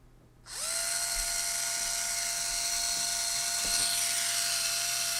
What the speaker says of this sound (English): And now the motor rotates counterclockwise.